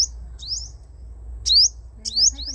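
Sunbird in a cage, a female brought along, giving several sharp high rising chirps in short bursts, clear and close over a low steady background hum.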